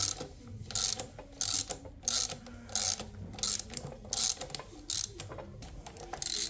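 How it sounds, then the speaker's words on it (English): Ratchet on a puller working a part off a BMW G260 manual transmission, about a dozen evenly spaced clicking bursts in a steady rhythm, close and clear with no talk. "see if this will come off by hand, or if we're gonna have to use a puller"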